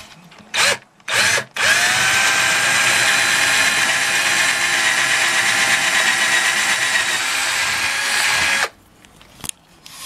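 A power drill bores two holes through a varnished wooden clock case, running loud and steady for about seven seconds after a couple of short starting bursts, then cutting off.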